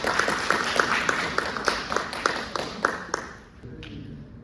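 An audience at a civil engineering society student symposium breaks into applause, a burst of many hands clapping at moderate distance that thins into a few scattered claps and fades out.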